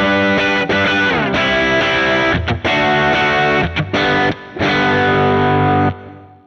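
Distorted electric guitar run through a Kemper profiler with a 3 dB mid boost at 2500 Hz, thick sustained chords with short breaks between them, loud and up close with no talking.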